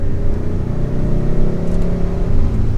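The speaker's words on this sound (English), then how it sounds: "Very smooth turbo power delivery." A 2022 Hyundai Sonata N Line with its 2.5-litre turbocharged four-cylinder accelerates smoothly, a loud, steady low engine drone heard from inside the cabin with no break.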